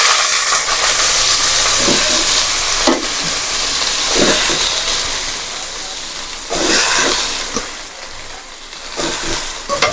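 Mustard seeds, cumin and asafoetida sizzle hard in hot oil as leafy greens are tipped in, a steady loud hiss with bursts of spitting, while a voice talks over it.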